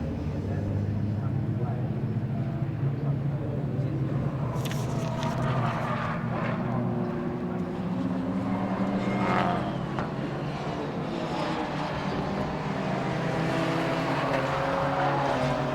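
Race cars pass at Silverstone during a Britcar Endurance Championship Trophy Class race, a steady, fairly distant engine drone swelling as cars go by, heard beneath ongoing commentary.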